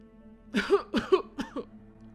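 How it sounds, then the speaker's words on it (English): A rapid series of about six raspy, strained coughs comes in quick succession, close and fairly loud, with no talking. "He let out a wheezing cough and curled over,"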